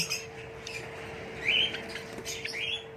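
Zebra finches at a bird sale give a few thin, high chirps and squeaks over a steady background hum, fairly close and moderately loud.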